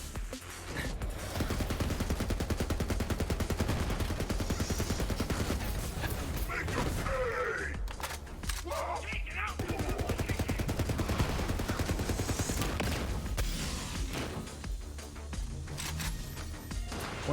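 Gunfire from a slow-firing weapon in the video game Borderlands 3 on PC, playing as Zane, with repeated shots in a loud, dense in-game battle mix of booms and effects, a voice speaking intermittently over it.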